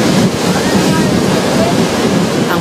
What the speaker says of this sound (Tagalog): Nagngangalit din ang alon sa baybayin.